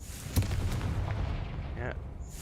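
Casting Confringo in the Hogwarts Legacy video game sets off a short, punchy fire blast followed by a low rumbling burn, fairly quiet and brief within the game soundscape.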